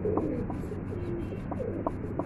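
Pet pigeons standing by water, giving soft low coos scattered over a quiet background hiss, several brief calls at irregular intervals, fairly close and faint, with no talking.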